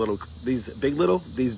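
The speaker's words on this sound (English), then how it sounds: "if you hear that noise in the background, it's not static. That is truly cicadas." Cicadas call from oak trees as a steady, droning insect buzz that runs through the whole stretch, behind a nearby speaking voice.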